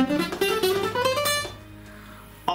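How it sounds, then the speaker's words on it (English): Acoustic guitar with very thick strings played with a thick pick: several close, firm plucked notes ring out, fade to near quiet, then one last pluck lands at the end, with no voices. "If I'm using a thick pick on very thick strings,"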